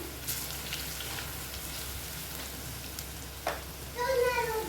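Asafoetida (hing) drops into hot oil in a pan, giving a steady low sizzle and frying hiss with a brief pop and a slightly louder burst of crackling near the end.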